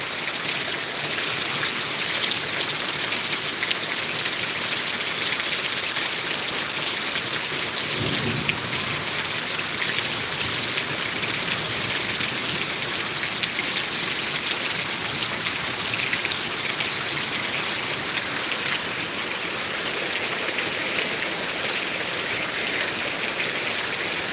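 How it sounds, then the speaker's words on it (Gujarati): Heavy rain falls steadily over fields in Gujarat during a thunderstorm, a dense loud wash of drops with a low rumble of thunder partway through. "સારો છે સારો વરસાદ"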